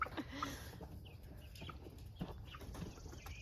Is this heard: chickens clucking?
yes